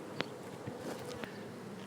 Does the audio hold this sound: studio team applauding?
no